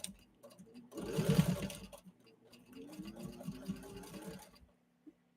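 A 1934 Singer 15-91 sewing machine stitches through leather, a close mechanical whir and rapid clatter in two bursts that speed up and slow down, with a short pause between them and a faint tick at the end.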